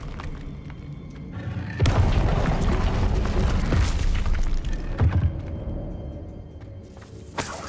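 Fire spell cast in the video game Hogwarts Legacy, beginning with a sudden loud whoosh and burst of flame that roars for several seconds with crackling thumps before fading, followed by a sharp final crack.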